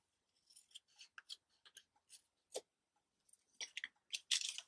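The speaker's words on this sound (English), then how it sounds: "Now I just have to snip this off." Scissors snipping through vintage paper ephemera for a junk journal, a quick irregular series of crisp close cuts and rustles, soft and quiet, with short pauses between snips.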